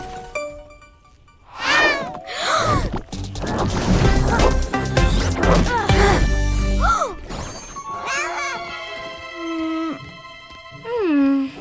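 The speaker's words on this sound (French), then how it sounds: "ce mignon petit chat a un mignon petit collier" A cartoon cat meows and caterwauls in a French animated superhero episode, with rising and falling cries over busy music, crashes and whacks throughout.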